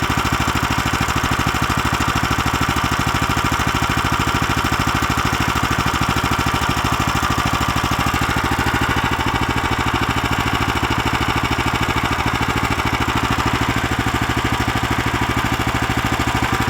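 A new Lifan LF390QE Pro engine idles steadily while warming up, a close, loud, even mechanical chug that runs unbroken throughout with no talking.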